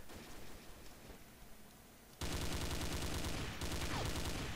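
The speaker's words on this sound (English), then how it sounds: "the MG42 Steel is a overpowered machine gun" Heavy sustained automatic fire from an MG42 Steel machine gun in the online shooter Combat Arms erupts halfway through, loud and continuous, following quieter game ambience and scattered shots.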